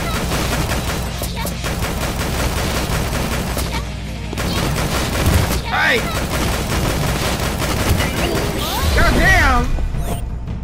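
Rapid gunfire and impact crashes from guns in the zombie video game Dead or School, dense and loud throughout, with a voice talking over the action at times.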